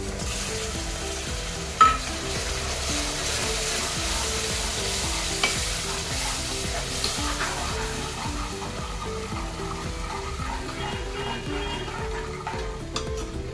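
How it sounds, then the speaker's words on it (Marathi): Chicken sautés on a low flame as thick yogurt goes in, a steady close sizzle with a rhythmic scrape of stirring and one sharp clink early on. "गॅसची फ्लेम बारीक करून मी हे घट्ट दही देखील यात सोडत आहे."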